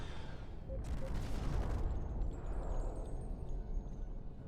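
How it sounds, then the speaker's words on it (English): A Tommy gun fires in the Star Trek Online video game, a dense rumbling fusillade of rapid shots and blasts that runs steadily throughout at moderate loudness. "Love the Tommy gun."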